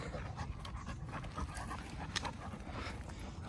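Dog panting steadily and rapidly outdoors, close and fairly loud, with continuous rhythmic breaths and a brief whimpery edge against light background noise.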